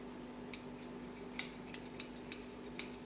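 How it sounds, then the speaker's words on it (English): Freshly sharpened scissors snip six times in a quiet kitchen, each cut a crisp, bright metallic click, spaced irregularly and heard up close over faint room hum. "you can tell when your scissors are sharp, you can hear the blades."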